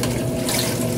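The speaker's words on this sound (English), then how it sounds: "I guess the water circulating really well in there." Water churns inside a Magic Chef 20-pound washing machine, stirred by the agitator, in a loud, constant rushing wash heard close up from inside the tub.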